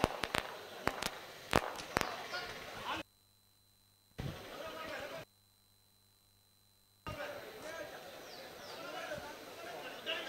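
Firecrackers burst at the Puttur Kambala buffalo race, an outdoor rural event: a rapid string of sharp, loud bangs in the first two seconds, then voices and crowd noise with brief silent dropouts.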